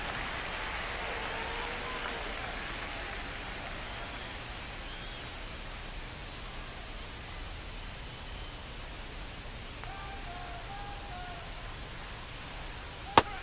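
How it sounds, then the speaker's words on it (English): Steady rain hisses evenly across a ballpark in MLB The Show 25 during a Brewers–Dodgers game, a constant wash of noise with faint crowd tones and a brief click near the end. "This rain is not letting up."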